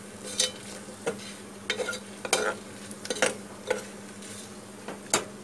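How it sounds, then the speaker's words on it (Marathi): Onions fry with whole spices in a pressure cooker for vegetable biryani. A spoon scrapes and clinks against the pot in frequent, uneven strokes over a low, steady sizzle. "आपला कांदा चांगला फ्राय झालाय."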